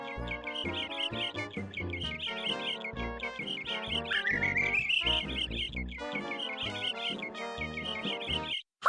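Cartoon birds perched on telephone wires in the video game Mickey Saves the Day chirp a busy, bouncy song, with layered tweets and rising whistled notes running continuously and fairly loud, stopping abruptly near the end.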